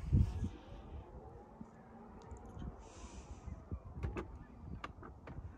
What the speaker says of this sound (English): You can also press three times on the top of the key fob and that will close every door.